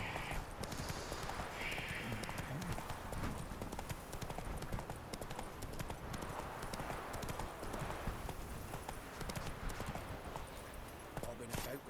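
Horse hooves clip-clop steadily throughout while riding in The Witcher 3, with continuous game ambience and occasional voices talking over the movement.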